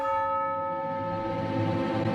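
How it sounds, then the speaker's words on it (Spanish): A deep, sustained bell tolls within the orchestral Elden Ring main theme, ringing steadily over low brass and strings with rich overtones throughout. "La campana"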